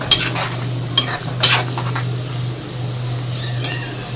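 Chicken shorva being stirred after half a spoon of garam masala goes in, a utensil scraping the pot in a few sharp strokes over a steady low hum, with faint simmering between.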